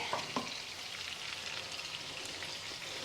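Pork chops fry in a pan for a keto butter garlic dinner, giving a soft, steady sizzle with faint crackles and pops, close and continuous without talk.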